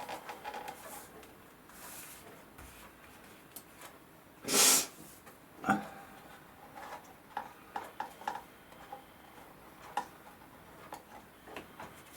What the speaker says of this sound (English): I've got a bit of a sniffly nose at the minute, and I keep forgetting and subconsciously sniffing.